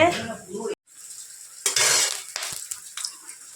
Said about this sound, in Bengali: এখন বাদাম ভাজা হচ্ছে